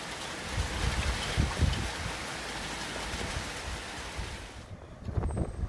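Stormy weather with rain and wind: a dense, constant rushing hiss with low gusty rumbles, fairly loud throughout, easing briefly near the end before gusting again.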